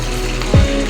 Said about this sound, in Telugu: ఆయిల్ బాగా హీట్ అయిన తర్వాత చికెన్ పీసెస్ని ఆయిల్లో ఇలా వేసుకోవాలి.